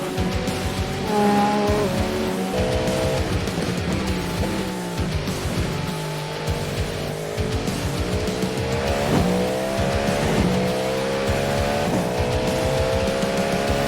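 A GTP prototype race car in iRacing at Daytona, sim racing, brakes into turn 1 with its engine dropping through downshifts, then revs climbing again, tires squealing, all loud and continuous.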